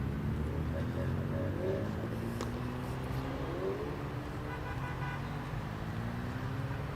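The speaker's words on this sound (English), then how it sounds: "We've got some straight cut gears going in behind us, so it's nice to hear." Mini race cars with straight-cut gears pass at the Brands Hatch Mini Festival circuit, a continuous engine and gear whine rising and falling as they go by, heard from trackside over crowd murmur and traffic noise.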